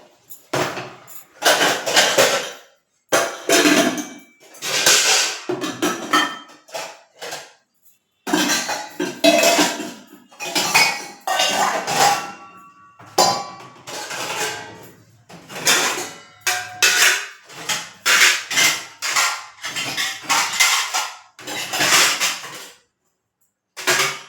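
Washed steel dishes and pots being arranged on a kitchen shelf, a long run of sharp metallic clinks and clatters in irregular bursts with brief pauses, close and distinct, no talking.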